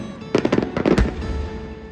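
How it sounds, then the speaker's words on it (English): Japanese fireworks burst over Zushi, Japan, in a rapid string of loud sharp crackling pops and thuds that end in one deeper boom, then fade into a lingering rumble. "Japanese fireworks, or hanabi, are often said to be among the best in the world"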